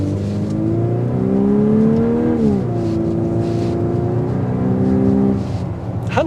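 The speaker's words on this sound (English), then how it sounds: "I like the exhaust note that filters in though." A 2024 Volkswagen Atlas Cross Sport SEL Premium R-Line with a naturally aspirated V6, heard from inside the cabin as a steady engine and exhaust drone that climbs in pitch while accelerating, dips briefly at a shift, then rises again.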